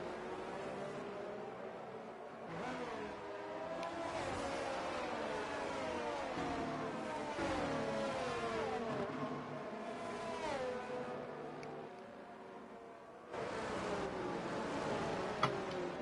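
Racing cars in the F1 22 video game on the Austria circuit rev and accelerate at a safety car restart, with a steady buzzing engine drone that rises and falls for the whole stretch.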